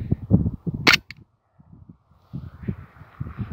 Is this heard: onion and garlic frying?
no